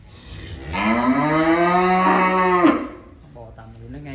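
A single cow at a cattle sale lets out one long, loud, drawn-out moo that swells and then cuts off sharply, followed by a brief, fainter voice.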